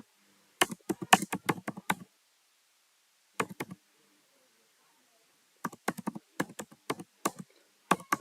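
Typing on a computer keyboard, close and crisp, in three short bursts of rapid clicking keystrokes separated by quiet pauses.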